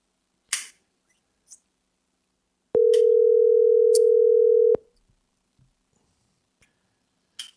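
A telephone tone sounds while calling a podcast co-host: a single steady, loud electronic tone holds for about two seconds, with faint clicks and taps before and after, and no talk.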